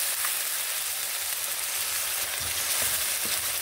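Tomatoes and spices fry in a pan with a dense, steady sizzle and faint crackles throughout, close and fairly loud, with no talking.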